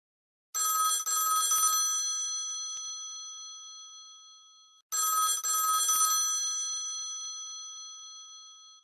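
An electric telephone bell sound effect, played from theatre cue software, rings in two bright, rattling bursts, each fading away slowly as the loop repeats.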